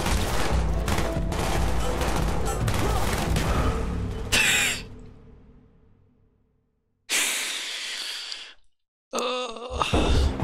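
Frag grenade blast and gunfire in Call of Duty Black Ops during a rooftop breach: dense, loud rattling fire for several seconds, a booming burst that fades away, then short sharp bursts after a pause.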